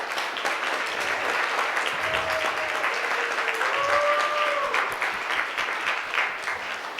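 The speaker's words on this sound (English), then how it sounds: "if everybody could give them a round of applause." Sustained applause from a meeting audience at a closing session, a dense steady patter of many hands clapping throughout, with a few faint whistles rising above it.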